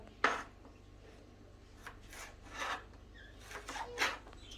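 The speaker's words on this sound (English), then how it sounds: "So I'm gonna do what they call it julienne. The carrots." Knife cutting carrots into long julienne strips for home-style chicken with carrot rice, a handful of separate scraping slices at an uneven pace, fairly close and quiet, with no talking.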